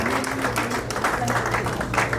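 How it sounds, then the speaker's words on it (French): Guests at a 60th birthday anniversary celebration applaud in a steady burst of dense clapping that fills the room, with some voices audible beneath it. "Merci sous l'applaudissement."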